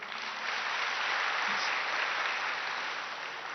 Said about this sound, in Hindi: तो अच्छा लगा तो फिर ताली तो बजाइए।